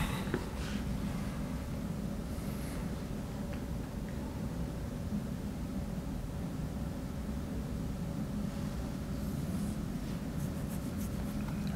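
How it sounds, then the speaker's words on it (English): Marker or chalk strokes on a board while sketching a math figure of a hollow solid of revolution, a soft steady scratching under constant room hiss with a few brief brighter strokes near the start and end. "So let me just draw a picture of that."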